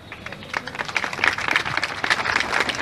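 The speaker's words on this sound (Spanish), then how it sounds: "Más fuerte ese aplauso, compañeros" Audience applause from a crowd of neighbors at a community political gathering in Tláhuac, Mexico City, a steady wash of many hands clapping that swells slightly and holds for a few seconds.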